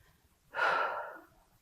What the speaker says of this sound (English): I do that most easily by just breathing, closing my eyes, feeling the breath moving through my body